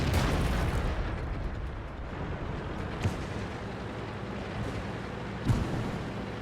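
Tank cannon fire in a tank video game, on a Soviet T-34-85 Rudy tier 6 premium medium tank, plays as a dense rumbling battle din with a couple of sharp booms standing out over the noise.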